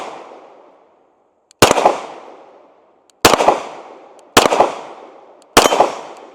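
Four sharp, loud shots from a Sig P320 SXG pistol crack out at uneven intervals, each with a short echoing decay before quiet, fired slowly for accuracy.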